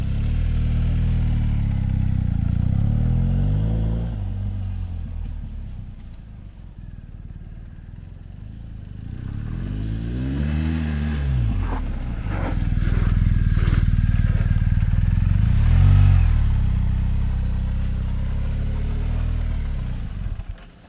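BMW GS adventure motorcycles braking off-road, engines droning and dropping in pitch as riders slow to regroup, with a few passes rising and falling nearby and faint clatter between them.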